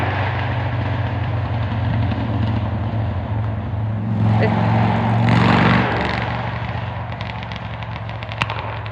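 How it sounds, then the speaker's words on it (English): Motorcycles rev along a country road near a rural garden, a continuous engine drone with a louder surge passing midway and a sharp crack near the end, heard in the background. "people like to rev their bikes up down this road"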